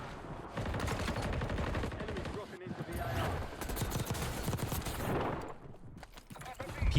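Dense, continuous gunfire from the Call of Duty Warzone video game, overlapping rattling automatic bursts at moderate distance with someone talking over them, briefly dropping off near the end before a sharp shot.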